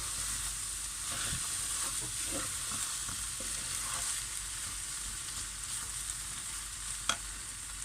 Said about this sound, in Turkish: İyice karıştırayım